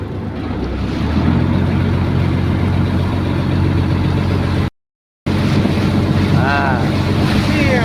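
A boat runs on open sea near Pak Nam, its engine drone and wind-blown waves rushing steadily and loudly throughout, with a brief cut near the middle.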